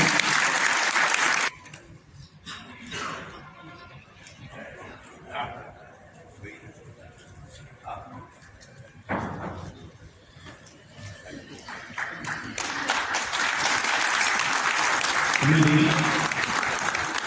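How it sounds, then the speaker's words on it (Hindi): Audience applause at a book launch event, bursts of clapping that come and go amid announcements, swelling into a fuller, louder round of claps near the end. "जोरदार तालियां"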